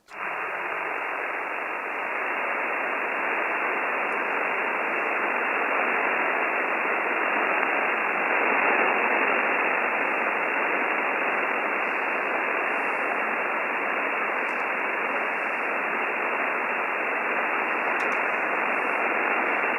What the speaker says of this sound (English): I just can't pull you out of the noise.